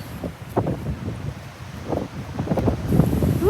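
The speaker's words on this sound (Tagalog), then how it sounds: "Lakas ng hangin." Strong wind in Andersen Park, Funabashi, Japan, buffets the microphone in gusty low rumbles, with rustling and a faint whistle near the end.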